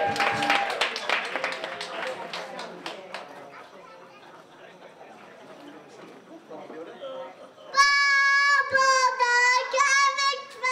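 An audience claps for a boy named Mitchell at a Daly Waters show, a scattered burst of claps mixed with chatter for a few seconds. It fades to murmuring, and then a loud voice starts singing.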